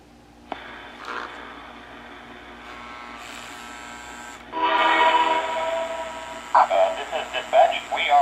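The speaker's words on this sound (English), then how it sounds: "You can check out the chuffing." Steam chuffing from the speaker of a repaired Lionel toy train tender, fitted with a 50 mm 8-ohm speaker, comes in as a brighter, louder sound midway and ends in rhythmic puffs. Radio-like voice chatter runs alongside it.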